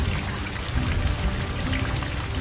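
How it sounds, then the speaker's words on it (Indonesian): Steady, dense rain falls with a constant broadband hiss and patter, unbroken throughout and with no voices. "Awan mencair menjadi butiran air, menetes dan jatuh sebagai air hujan ataupun salju."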